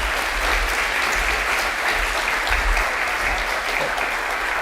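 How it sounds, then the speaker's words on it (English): Sustained, loud applause from a high school senior awards ceremony audience, an even, dense roar of clapping that holds steady throughout with no speech over it. "Let's give them another big round of applause for their dedication and effort."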